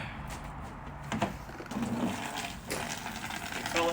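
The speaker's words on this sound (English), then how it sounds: "Fill it with water." A gorilla bucket fills with water from a hose or tap after gutter cleaning, a soft steady splash and gush running close by, with a few brief knocks and clatters along the way and no talk.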